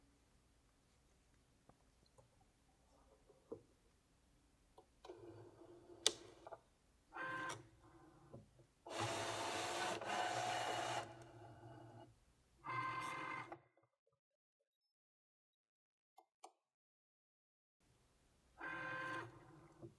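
A Cricut cutting machine slicing PVC vinyl, with intermittent whirring bursts of motor and carriage movement separated by quiet pauses and a few clicks, one longer buzzing pass in the middle, near and moderately quiet.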